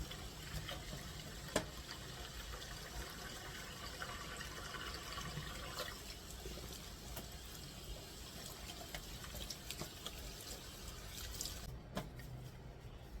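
Water runs steadily from a tap while dyed yarn is rinsed, a continuous faint wash with small drips and splashes throughout.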